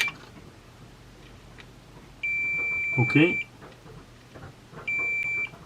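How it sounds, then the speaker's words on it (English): A Fluke multimeter in continuity mode gives steady high electronic beeps as its probes touch pins on 4000-series logic chips. Two clear tones sound, the second shorter, against a quiet bench background, and someone briefly speaks between them. "This is the good thing about the Fluke. It will beep at once if you get a connection here."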